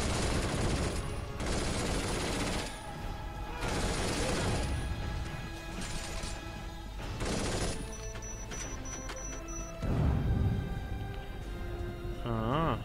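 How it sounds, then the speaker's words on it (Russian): Bursts of rapid gunfire and booming blasts in the video game Binary Domain come in waves, loud and dense, with mechanical clatter between volleys. "А это что за взрывы-то были сейчас?"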